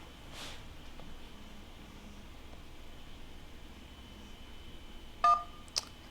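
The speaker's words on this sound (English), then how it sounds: "Oh, we got a phone call." Electronic telephone tones ring out on a call during a live talk show: a short burst of beeping tones near the end, then a brief second chirp, over a faint hissing background.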